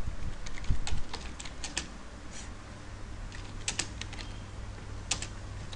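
Rapid, irregular clicks of fingers typing on a computer keyboard, close and clear, coming in short bursts with brief pauses and a faint steady hum underneath.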